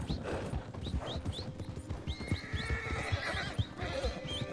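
A horse in Red Dead Redemption 2 clops along with a steady rhythm of hoofbeats, letting out several high whinnies and snorts over the footfalls, close and fairly loud.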